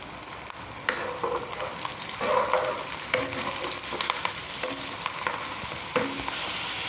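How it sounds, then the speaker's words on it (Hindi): Onions fry in a pan for spiced chicken keema as ground spices are stirred in, giving a steady sizzle broken by repeated scraping and stirring clatter, close and fairly loud throughout. "पकते हुए प्याज में हम मसाले शामिल करेंगे।"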